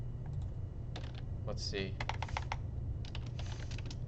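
Clicking keystrokes on a computer keyboard during a coding session, in irregular bursts of taps close to the mic, with a short spoken phrase mixed in and a steady low hum underneath.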